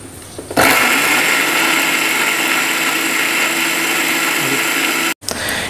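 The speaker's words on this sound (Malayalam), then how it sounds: "അപ്പോൾ നമുക്കിതൊന്ന് അടിച്ചെടുക്കാം." Close by, a mixer grinder blends a green chili marinade for grilled chicken, a loud steady whirring roar that runs for about five seconds before cutting off abruptly, then briefly starts again.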